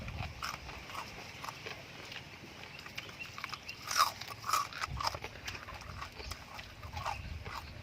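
Crispy pork belly being chewed up close, with repeated crunchy bites and mouth noises running steadily throughout, a few louder crunches standing out near the middle.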